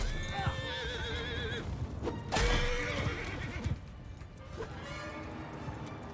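Horses neigh and whinny loudly in a Mount & Blade II Bannerlord battle, with several calls in a row over a constant rumble of clashing combat and a few hoof clops.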